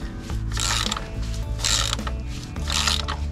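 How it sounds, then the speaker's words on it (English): A standard ratchet without an extension bar is worked hard to remove a motorbike clutch pin, giving three close, loud bursts of rapid clicking with short pauses between them. "it's just with standard tool, no lever extension on the ratchet"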